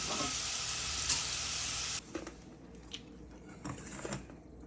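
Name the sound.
food deep-frying in oil until golden brown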